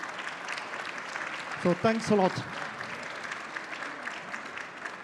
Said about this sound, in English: We'd like you to applaud the GIFAS for hosting us.